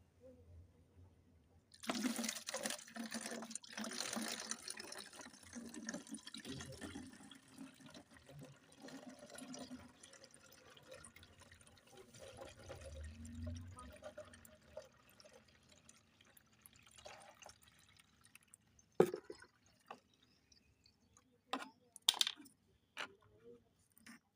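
Orange-peel liquid sprayed undiluted onto garden plants gives a steady hissing spray for much of the time, followed by scattered drips and light taps near the end.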